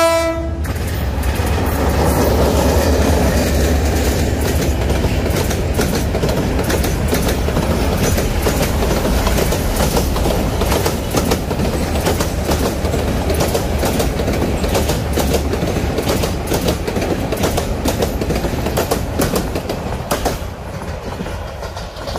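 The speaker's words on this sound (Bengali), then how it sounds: "সেই রেল লাইন দিয়ে একটি ট্রেন আসছে আমরা দেখতে পাচ্ছি।" A train on the Dhaka–Mymensingh railway line runs past a village market with a loud, sustained rumble and rhythmic wheel clatter. A horn blast comes near the start, and the noise eases slightly toward the end.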